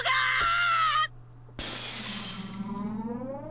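A sudden glass-like shattering effect from the Higurashi visual novel arrives after a strained, wailing tone cuts off, then the crash rings out loudly and trails into a long, glittering decay.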